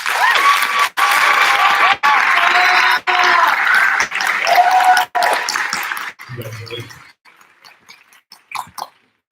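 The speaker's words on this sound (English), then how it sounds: "We'll applaud here in the TAC." An audience in a school assembly applauds honored scholars, with a strong burst of clapping and a few voices that fades over about six seconds into scattered sparse sounds.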